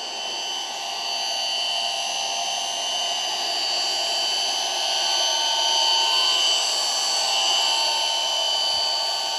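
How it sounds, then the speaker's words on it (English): Pump of a Gasland BS318 tankless water heater running, filling a heated stock tank pool through 25-foot hoses, a steady, moderately loud whine and hum with a bright tonal edge that holds without a break. "Pump's not too bad."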